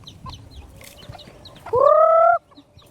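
A chicken lets out a single loud, drawn-out squawking cluck, close by, over faint background chatter and rustling.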